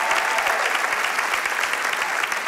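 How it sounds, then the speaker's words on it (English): Steady, dense applause from a large church congregation, loud and continuous with no break for the whole stretch. "let's clap our hands for all those who have joined us at our campuses online"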